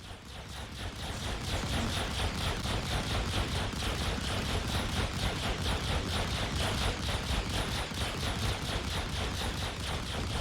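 Distortion guns in a space video game firing at a ship's shield, a dense continuous rattling burst of rapid mechanical shots, loud and unbroken for the whole stretch with no talk.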